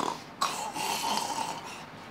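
A person snores nearby in a few rough, rasping breaths, with a sharp snort-like onset followed by a drawn-out, throaty rattle.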